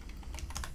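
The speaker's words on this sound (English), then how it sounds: "and just start typing." Typing on a computer keyboard while building a website, a short run of close, light key clicks over a low steady background hum.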